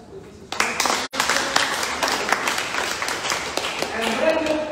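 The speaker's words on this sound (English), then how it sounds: "Clap your hands for Jesus Christ." A church congregation claps hands during a Sunday service in Darwin, a dense burst of clapping that starts abruptly, breaks off briefly, then carries on loud and steady with voices mixed in.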